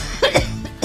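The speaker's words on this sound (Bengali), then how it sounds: "কাশতেছেন কিসের জন্য মা? কাশি হলো কবে?" A woman gives a few short, close coughs in quick succession.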